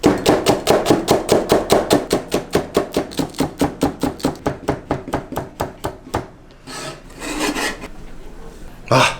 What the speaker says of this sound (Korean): 일단 파부터 대충 썰고